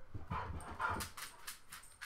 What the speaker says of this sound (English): Barking. I hate dogs.